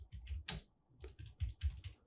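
Keys clacking on a computer keyboard as a short text prompt is typed into Adobe Firefly, a quick uneven run of close, crisp taps with brief pauses and no talking.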